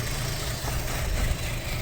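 A car engine with a strange knocking fault idles steadily and close by, a continuous low rumble with faint irregular knocks barely standing out, and no talk.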